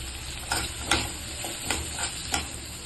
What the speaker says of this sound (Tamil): தக்காளி புதினா கொத்தமல்லி இதெல்லாம் சேர்த்து வதக்கிக்கலாம்